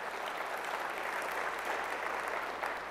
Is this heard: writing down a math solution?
no